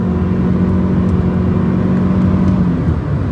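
A 2020 Toyota RAV4 Hybrid in sport mode accelerates hard, its engine droning loud and steady from inside the cabin with a rising whir throughout.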